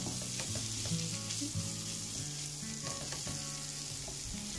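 Chorizo, ham and vegetables frying in a pan for a tortilla paisana: a continuous dense sizzle with light crackling and small clinks, close and even throughout.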